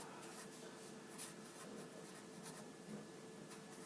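A teacher writes a ratio example on a board, faint continuous scratching and rubbing strokes with brief taps, quiet and alone without talk.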